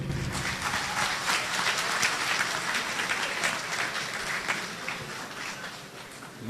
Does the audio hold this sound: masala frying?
no